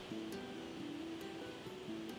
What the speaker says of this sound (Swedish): Norr om Överkalix finner man älvens största vattenfall, Jokkfallet.